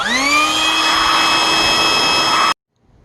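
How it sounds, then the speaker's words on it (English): A small electric blow-up mattress air pump runs with a steady, loud, high-pitched whine and airy rush for about two and a half seconds, then cuts off abruptly to near silence. "This is just a blow-up mattress pump."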